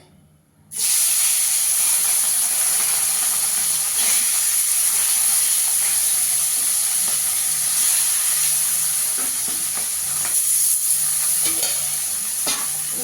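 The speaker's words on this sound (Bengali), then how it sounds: "এবার মাছটাকে ভেজে নেব আগে।" Parshe fish drops into hot oil in a wok and a loud, bright sizzle bursts in after a moment of quiet, then holds as a steady, close, hissing crackle with scattered small pops.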